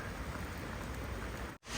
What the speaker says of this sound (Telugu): ఎంత జోరుగా పోతున్నాయి చూడండి నీళ్ళు